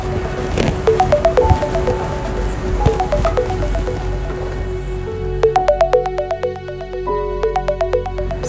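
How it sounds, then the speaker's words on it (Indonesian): A mobile phone ringtone plays a repeating tinkly electronic melody, rising in bursts, fairly close and clear over low background noise. "itu telepon kok bunyi terus."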